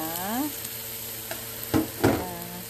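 Sliced sponge gourd (patola) drops into a hot pan and starts frying, giving two sharp bursts of sizzle over a steady hiss, close and moderately loud.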